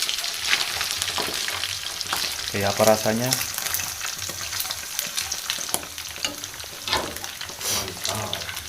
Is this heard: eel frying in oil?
yes